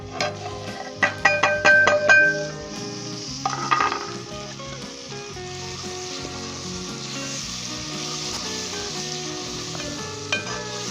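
Green chillies and tomato tipped into frying masala for a chicken heart, gizzard and liver dish, starting with bursts of spatula clatter against the pan, then settling into a loud, steady sizzle with occasional scrapes.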